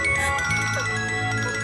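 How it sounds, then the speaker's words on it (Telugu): A mobile phone plays a tonal, sustained ringtone with steady layered notes, loud and continuous with no pause. "ఫోన్"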